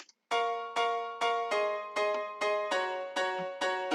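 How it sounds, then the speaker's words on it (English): Grand piano rhythm chords from the Nexus Ballad Grand Piano preset in FL Studio, struck eight times in a steady, even pulse; each bright, full chord rings briefly before the next, with no voices. "This is a preset from Nexus, the Ballad Grand Piano preset."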